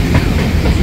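A passenger train runs on rails on the approach to Badarpur junction, a loud, steady rumble with rhythmic clickety-clack from the wheels, up close with no voices.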